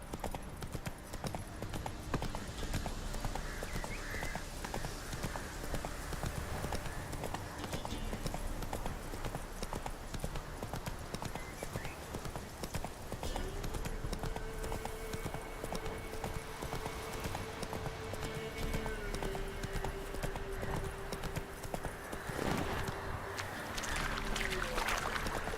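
A horse gallops in The Witcher 3 with rapid, continuous hoofbeats pounding steadily throughout, layered over a dense game soundscape with a sustained tonal hum in the background.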